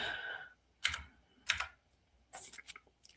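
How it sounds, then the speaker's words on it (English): Typing on a computer keyboard turned sideways, heard as a few separate bursts of key clicks with short pauses between them, close and fairly quiet, with no talking. "my keyboard is sideways"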